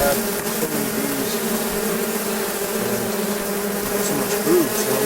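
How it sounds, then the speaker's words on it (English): Dense, even buzzing of a crowded honey bee colony at an opened hive, a steady close hum lasting throughout with no speech. "I'm surprised that we have so many bees."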